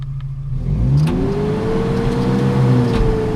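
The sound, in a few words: Chevy Blazer engine revving after a cold start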